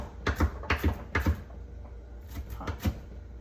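Knife chopping food on a board during meal prep, a run of sharp, close knocks in quick bursts, pausing briefly before a few more strikes.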